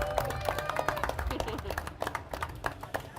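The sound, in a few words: audience applause at a panel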